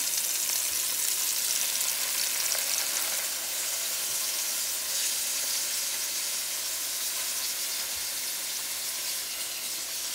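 Salmon frying in oil in a skillet on low heat, an even, continuous hiss of sizzling oil that holds steady from start to finish with no talking.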